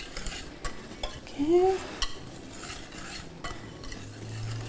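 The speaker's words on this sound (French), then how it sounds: "je vais mélanger les ingrédients secs d'abord" Dry ingredients being stirred in a bowl, a soft close scraping and swishing with a brief louder scrape in the middle, fairly quiet, with a short spoken word.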